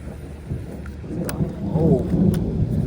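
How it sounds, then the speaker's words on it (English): Distant thunder from an approaching storm during a fishing trip under a tornado watch, a low rumble that swells and lingers beneath faint rain and a few soft clicks. "y'all hear the storm? It's coming."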